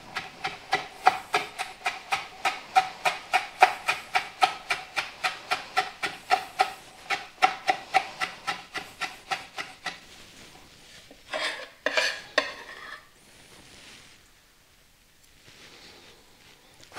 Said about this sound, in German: Und das wird dann fein gehackt.